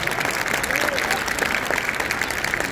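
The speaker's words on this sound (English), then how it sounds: "I think you should give a big round of applause to all the children." Audience applause for a children's choir at a Cleveland Thyagaraja Aradhana concert, a steady wash of many hands clapping throughout, with voices faintly mixed in.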